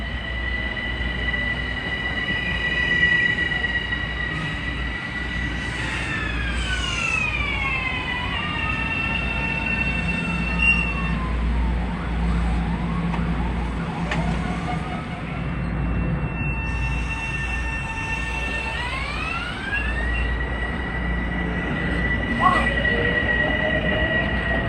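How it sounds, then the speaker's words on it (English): A Metro-North commuter train, number 353 bound from Grand Central to North White Plains, passes loudly on the Harlem Line in the evening, a steady rumble with repeated squealing wheel and brake tones rising and falling, no talking heard. "Here's train 353 from Grand Central to North White Plains."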